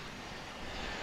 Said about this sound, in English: Coming in now from Querétaro in Mexico. It's an A319, American Airlines flight